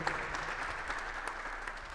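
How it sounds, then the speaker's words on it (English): An audience at a community variety show applauds in a continuous, moderately quiet wash of many hands clapping together, even and sustained for the whole moment. "An applause for Barbara Atchley"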